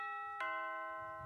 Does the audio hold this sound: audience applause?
no